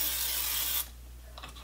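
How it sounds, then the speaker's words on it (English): A Misto sprayer mists olive oil onto a baking tray in one close, sustained hiss, followed by soft clicks and light handling noises. "I'm going to spray some nonstick spray on there."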